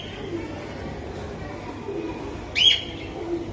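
Pigeons in a loft of fancy breeds such as Giribaz, red Gola and racers give soft calls and a brief chirp over a steady murmur of background noise, with people talking nearby.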